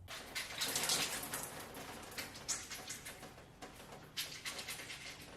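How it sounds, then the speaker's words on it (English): Wet, squishy scrunching as conditioner is worked into wavy-curly hair in the shower, in soft, rhythmic squelches close up under a wash of running water. Fairly quiet, with no talk. "Then I scrunch the conditioner into my hair."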